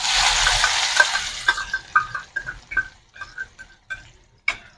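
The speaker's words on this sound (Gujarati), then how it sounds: "કાંદા થોડાક લાલ સંતળાઈ થોડાક મીડિયમ ગોલ્ડન." Grated onion hits hot oil in a wok with asafoetida, bursting into a loud, close hiss that quickly fades. Rhythmic stirring scrapes and softer sizzles follow, with no voices.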